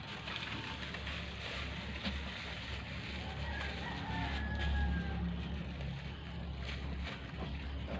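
Rooster crowing faintly in the distance over a steady outdoor rumble of wind or engine noise, with a brief clear crow midway and scattered quiet sounds around it.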